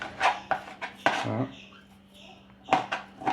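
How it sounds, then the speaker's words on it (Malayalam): A knife chops ginger finely on a board with several crisp, close chops, a short pause, then another quick burst of cuts, with faint voices in the background. "അമ്മ ഇഞ്ചി ചെറുതാക്കി അരിയണ"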